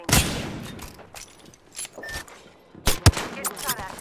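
Gunfire in Apex Legends: a sharp burst of shots at the start, scattered smaller cracks through the middle, and a louder cluster of shots near the end, close and punchy with game effects between them.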